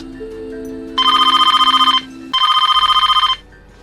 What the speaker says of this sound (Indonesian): tiba-tiba Sydney pun mulai mendapatkan telepon dari orang misterius